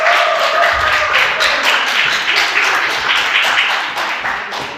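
Congregation at a church service clapping steadily throughout, a dense, loud round of applause that fades slightly toward the end.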